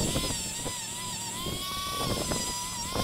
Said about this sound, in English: A little Dremel tool and a wire wheel.